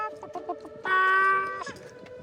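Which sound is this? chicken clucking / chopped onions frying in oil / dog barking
chicken clucking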